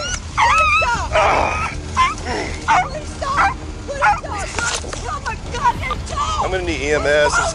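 A dog barks, yips and whimpers during a tense police arrest. The sharp, repeated yelps and whines come in close, loud bursts, mixed with people talking and shouting.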